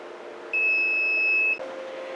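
A single steady electronic beep from an Arduino QR puzzle device warming up holds for about a second over a constant low hum, then cuts off.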